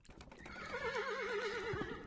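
A horse whinnies in a long, wavering call in the horror game The Supper. It is near and clear, with a soft thud of hooves toward the end.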